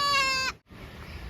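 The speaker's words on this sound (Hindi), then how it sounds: "मैं यहाँ पर एक बकरी के साथ खड़ा हूँ जो बहुत पढ़ी लिखी बकरी है।" A goat gives a single short, nasal bleat up close, then the sound cuts out briefly before low background noise resumes.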